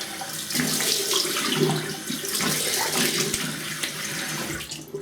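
A bathroom tap runs steadily into a sink to rinse a razor after shaving, a close continuous splash with small clinks and shifts in the flow.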